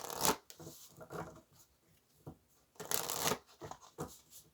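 Tarot cards are shuffled by hand in close, crisp riffling bursts, several separate shuffles with brief quiet gaps between them and no speech over them.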